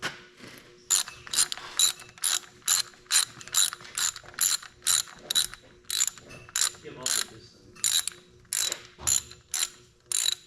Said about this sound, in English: And we got ourselves one bolt that goes in this back corner. Now we tighten her down.